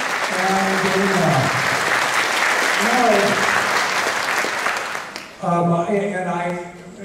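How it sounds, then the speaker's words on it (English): Lecture audience applauding steadily and loudly for several seconds at a talk, with a voice speaking over the clapping in bursts, then the applause fading near the end as his voice comes through more clearly. "one more round of applause for the Liberatores for Phil and Dana"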